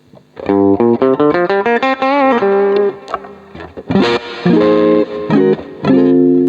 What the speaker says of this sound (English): You can get a Vox AC30, and you can choose the cabinet independently of the guitar amp as well.